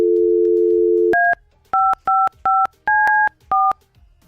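Telephone dialing: a steady dial tone for about a second, then six short touch-tone beeps in quick irregular succession, loud and close with no voices.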